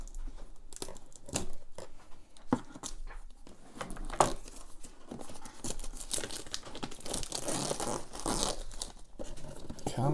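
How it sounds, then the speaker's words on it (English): Scissors cut into and tear the cardboard and plastic packaging of a Western Digital My Cloud Home box, giving uneven bursts of ripping, crinkling and snipping close to the microphone. "Let's grab our trusty scissors here and get into this."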